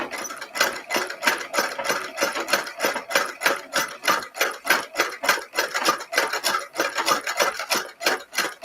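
An embroidery sewing machine stitches flowers in a fast, steady rhythmic clatter, each needle stroke a sharp mechanical tick repeating evenly and close by, with no voices.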